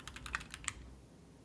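Quick bursts of typing on a computer keyboard at a Linux desktop, a handful of crisp key clicks clustered in the first moments, then quiet.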